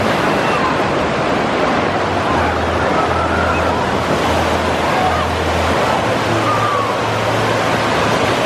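Waves in the wave pool at Disney's Typhoon Lagoon water park rush and wash over ankle-deep water in a loud, continuous surf roar with a steady hiss and no pauses.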